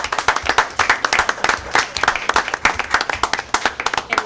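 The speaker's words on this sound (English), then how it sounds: "Let's give our police department another round of applause." A round of applause for the police department at a Fanwood council meeting, steady close clapping from a modest group, individual hand claps clearly distinct in an even rapid rhythm throughout.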